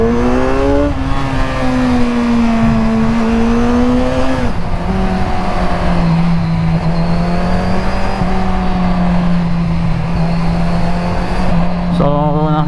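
A motorcycle ridden fast along a road, its engine droning steadily with pitch rising and easing as it speeds up and shifts, close and loud with wind rush and a brief surge near the end.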